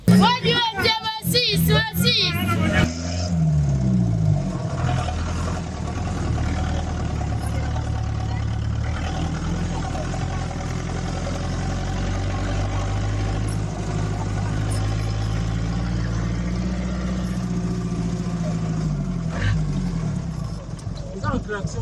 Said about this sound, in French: Ces Land Rover en plein 21e siècle et surtout dans une capitale transportent à leur bord au moins